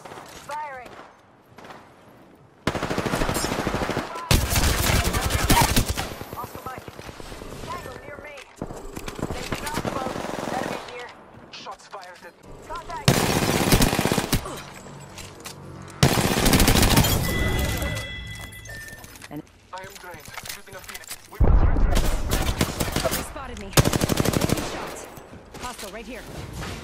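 Gunfire from the battle royale video game Apex Legends, with repeated automatic weapon bursts and single shots in loud irregular volleys, interspersed with short quieter gaps and game sound effects.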